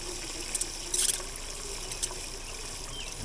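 Water trickles and splashes steadily from a hand pump into a kayak live well, a soft continuous stream with a few brief louder spurts, close by and with no talking.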